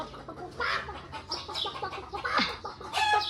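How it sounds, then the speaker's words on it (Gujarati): Chickens clucking at a farm visit, a steady series of short clucks and squawks from several birds nearby, continuous with no talk. "જો પક પક પક પક કરે. ચિકન છે ગાઈસ, ચિકન"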